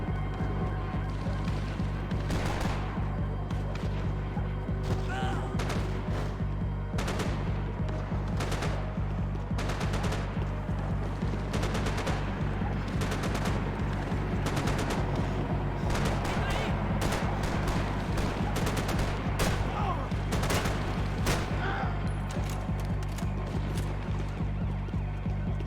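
Video game combat with assault rifle and pistol fire: rapid, loud bursts of automatic shots mixed with single cracks, continuous and dense throughout, with no pause in the shooting.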